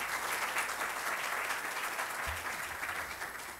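Audience at a civil law seminar gives a speaker a strong round of applause, continuous dense clapping heard alone and fairly faint.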